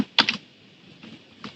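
Computer keyboard keys are typed at a desk in a short burst: a quick close double clack, then two softer isolated key presses spaced apart, with no talking.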